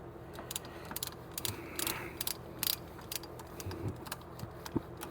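A ratchet tightens a bolt while front brakes are fitted on a 2012 Ford Fusion, giving quick, close clicking bursts in short, uneven runs with brief pauses between them.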